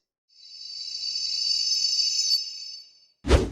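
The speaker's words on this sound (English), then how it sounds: "use one of the ambient noises of the Wart forest biome" A shimmering high-pitched whine swells up and fades over a few seconds, followed by a short sharp thud at the end: ambient sound of the Minecraft warped forest biome in the Nether.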